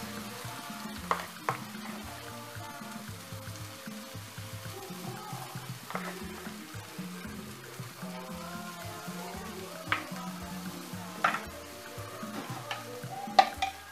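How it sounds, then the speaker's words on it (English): Banana pancake batter fries in a non-stick pan, giving a soft steady sizzle with occasional scraping and stirring clicks, quiet and close, with background music and no talking. "scoop the banana mixture into my non-stick frying pan and fry it"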